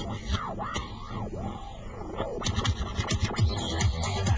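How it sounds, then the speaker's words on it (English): DJ scratching on the platter of a Stanton SCS.1 controller, with rapid back-and-forth swooping scratches, looping pitch sweeps at first, then quicker choppy cuts, close and fairly loud with a steady beat underneath. "You can't see the waveform while I'm scratching, but you can at least hear what's going on."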